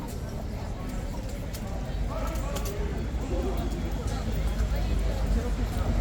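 Hooves of a young horse wearing booties clop steadily on a hard surface amid a busy crowd murmur, the footfalls blending into constant background chatter.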